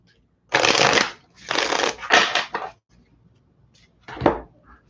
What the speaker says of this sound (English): I'm cleaning my deck.